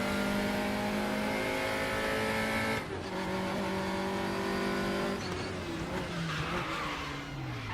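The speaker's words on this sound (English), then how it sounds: "Locking those brakes up." A race car in the RaceRoom Racing Experience sim with engine drone and harmonic whine, then brakes locking up as tires skid and squeal with broadband scrubbing after the engine note drops.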